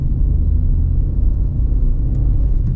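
Steady engine drone and road rumble from a Peugeot 208 with the 1.2 PureTech engine while driving through curves, a continuous low hum at even loudness with no voices.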